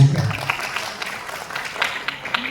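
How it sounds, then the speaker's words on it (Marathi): An audience applauds at a live comedy skit and interview show, a brief burst of scattered clapping that is loudest at the start and then thins into lighter, uneven claps. "एकदा या लाडक्या कार्यक्रमासाठी जोरदार टाळ्या होऊन जाऊन द्या"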